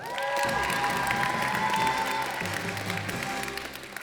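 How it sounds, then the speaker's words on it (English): Audience at a karate black belt showcase claps and cheers steadily throughout, a dense wash of applause and crowd noise from a moderately close distance, easing slightly at the end. "Now you're gonna cheer?"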